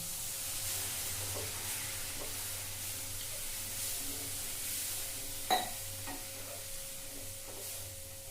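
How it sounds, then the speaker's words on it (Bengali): Milk poured into semolina in a pan sizzles and bubbles softly and steadily, with a few light stirring knocks and one sharper clink near the middle; no voices. "এবার এখানে কিছুটা দুধ আমি দিয়ে দিচ্ছি।"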